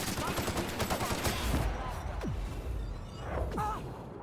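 Gunfire from enemies in The Outer Worlds, a rattling stream of shots with whooshing effects, fairly close, overlapping game sounds and a voice.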